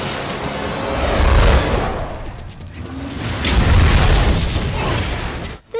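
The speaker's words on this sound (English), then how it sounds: "The explosion caused by the missile and shattering windows were added in post" A movie missile explosion with shattering windows plays as two loud booming surges with crackling debris and whooshes, the second swelling then cutting off abruptly.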